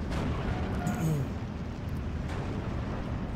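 Enemy off-map artillery in Steel Division 2 strikes as heavy booms rumbling beneath a continuous dense battle din, the low-end roar sustained throughout with a brief swell near the start.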